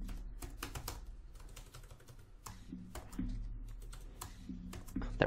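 Computer keyboard with a broken shift key being typed on in bursts of sharp, close key clicks, some clusters fast and others sparse, with a low background hum and no speech.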